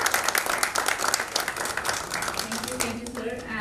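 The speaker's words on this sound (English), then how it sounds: "let's just give him a round of applause." Audience applause in a lecture hall at a chronobiology teaching school, thanking a professor after his lectures; dense steady clapping throughout, with a voice beginning to speak near the end.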